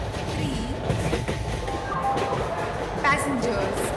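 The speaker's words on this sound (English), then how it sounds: "Train number 12655 Humsafar Superfast Express is arriving at" An Indian passenger train pulls into a station platform, a steady rumble and clatter of rail cars running throughout with a brief high wheel squeal near the end, while a voice speaks over it.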